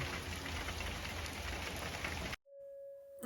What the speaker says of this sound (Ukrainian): що це буде дуже короткочасний дощ